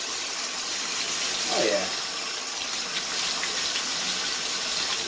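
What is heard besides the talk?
washing an antique glass insulator under running water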